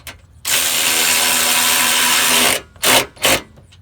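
Power tool tightening bolts on a 2007 Cadillac DTS during alternator work: a steady loud whir for about two seconds, then two short bursts close by.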